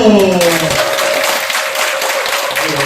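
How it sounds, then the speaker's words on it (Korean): An audience claps together at a Buddhist college special lecture given by an astronomy professor, a dense wash of applause that follows a brief voice at the start and continues steadily to the end. "다시 한번 박수!"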